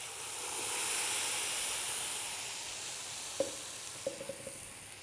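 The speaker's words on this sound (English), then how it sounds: "Now to this well heated oil, I am adding the grinded masala." Ground masala paste sizzles steadily in well-heated oil with asafoetida and curry leaves for a cauliflower chops side dish, a soft continuous frying hiss with a few brief clinks of a utensil near the end.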